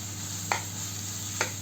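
Garlic going into a pan for squid adobo, giving a quiet steady sizzle over a low hum, broken by two brief scraping stirs about a second apart.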